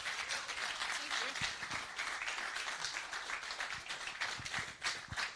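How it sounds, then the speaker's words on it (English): Steady applause from a crowd, dense clapping that carries on throughout with a few louder claps standing out near the end. "One more round of applause for Shells, everyone."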